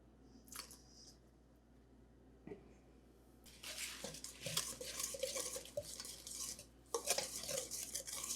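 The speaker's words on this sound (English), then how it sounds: "let me start putting all these cookie cutters in the dishwasher" Metal cookie cutters clatter and clink as they are loaded into a dishwasher, starting with a few faint taps and building into dense, close jangling and rattling over the second half.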